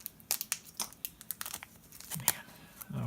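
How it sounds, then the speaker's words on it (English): Packaging for a Samsung Galaxy J7 phone crinkles and tears close by as the box is opened, a busy run of sharp rustles and small rips. "So let's unwrap that phony."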